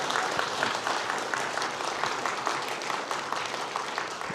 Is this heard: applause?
yes